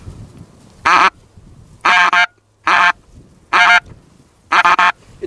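Loud, nasal goose honks in five short bursts, some doubled, spaced about a second apart with quiet gaps between, produced by a goose call device during a spring goose hunt near Velsk, Russia.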